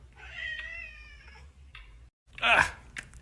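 A cat that has just been soaked lets out a long, clear meow up close, then a second, louder yowl after a short pause. Faint background noise runs underneath.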